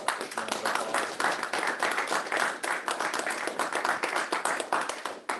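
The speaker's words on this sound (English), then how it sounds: "Let's give our speaker one more warm round of applause." Warm round of applause from an audience thanking a speaker at the close of a talk, dense steady clapping from many hands sustained throughout at moderate distance.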